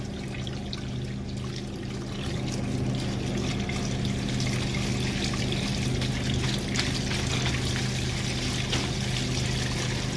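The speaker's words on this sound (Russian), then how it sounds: "Сейчас мы лапшу хорошо помоем холодной водой" Continuous splashing and trickling of cold running water as lagman noodles are rinsed, a steady close rush with small intermittent clatters.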